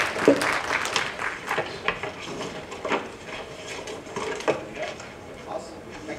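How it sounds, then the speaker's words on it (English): Scattered, moderate applause from a small audience at a pinball event, uneven and patchy claps with a few sharper hand hits, fairly quiet with faint voices and room noise underneath. "Round of applause, please, for the gentleman."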